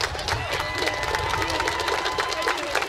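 A school band concert audience applauds and cheers for students, a steady wash of clapping hands and crowd noise sustained loudly and evenly throughout.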